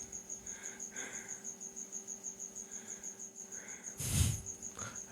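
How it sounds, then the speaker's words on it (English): A cricket chirps steadily inside a garage, a continuous high trill with a faint background and a short louder rustle near the end. "Do you think you can hear the cricket in the background?"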